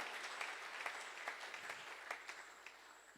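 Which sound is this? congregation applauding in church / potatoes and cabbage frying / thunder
congregation applauding in church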